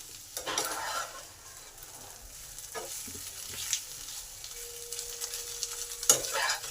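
Raw mango pieces fry with freshly ground mustard paste in a pan, giving a soft steady sizzle broken by scraping stirs and a few louder clinks, fairly quiet throughout.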